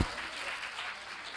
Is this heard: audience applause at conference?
yes